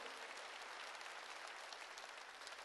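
A church congregation applauds during a Korean sermon, steady dense clapping filling the whole moment at an even level without letting up.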